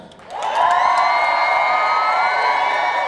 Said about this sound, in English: Let's please welcome with a warm round of applause, Mr. Barry Simon.